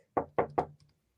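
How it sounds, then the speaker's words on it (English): Three sharp knocks on a hard surface in a reportedly haunted villa, evenly spaced and close, followed by a faint fourth tap, then silence. "Can you please copy this knock?"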